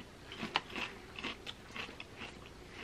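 Lay's BLT-flavoured potato chips being bitten and chewed up close, a run of crisp, crackly crunches in an irregular rhythm, fairly quiet and with no talk over them.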